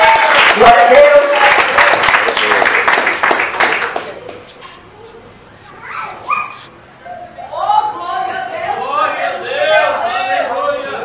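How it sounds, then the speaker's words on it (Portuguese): Church congregation applauding in dense clapping for about four seconds, followed by someone speaking over the hall. "Vamos recebê-la com palmas bem alegre."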